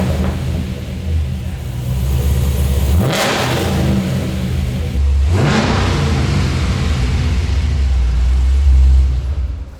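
A supercharged LS3 V8 in a 1962 Chevy C10 truck idles loudly with a deep rumble, then revs hard twice in sweeping surges, dropping back to a heavy idle each time.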